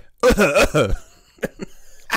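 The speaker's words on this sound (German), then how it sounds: "ich mach kurz Mikro aus, um zu husten" A person coughs a few times in quick succession, close by, followed by a couple of short, sharp coughs after a pause.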